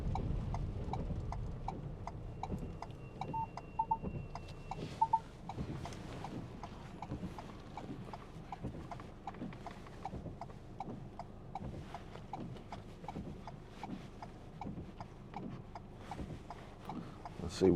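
A loose, unfastened part rattles on a 2019 Ford Transit Custom 2.0 EcoBlue van while driving, a faint, steady stream of rapid ticking knocks over low road rumble.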